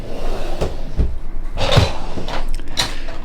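A drawer of a LEGO parts storage cabinet slides open, with a few close wooden or plastic knocks and a rolling scrape that clatter over about three seconds, and no voices.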